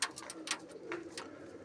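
Pigeons coo softly in a loft, several low, repeated calls near at hand over light background chatter.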